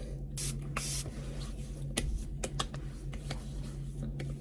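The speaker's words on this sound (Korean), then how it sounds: "스프레이처럼 이렇게 뿌리는 스킨은 끝났어요" Mist skin toner sprayed from a spray bottle in several short, close hissing bursts over a steady low hum, with no talking.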